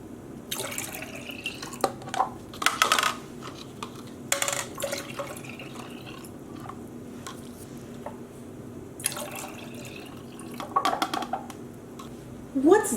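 Water is poured into mason jars while preparing acid dye dilutions for mini skeins. Several short pouring and splashing bursts are separated by pauses and sound close by.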